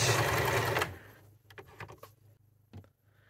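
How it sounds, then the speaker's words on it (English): A sewing machine back stitches a seam on fabric for a turban twist bandana headband, running in a dense, loud burst for nearly a second, then a few short clicks and taps from handling the machine. "I'll come up close to that seam and I'm going to back stitch"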